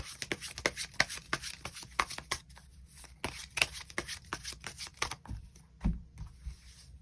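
Tarot cards being shuffled by hand make quick, papery riffling slaps in a rapid, uneven stream, close and fairly quiet, thinning out toward the end before a few final taps.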